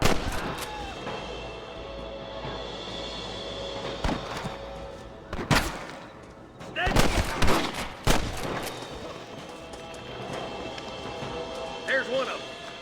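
Gunfire from the Red Dead Redemption video game: a few sharp reports stand out over a steady ambient bed of game sound, and a short flurry of shots follows in the middle.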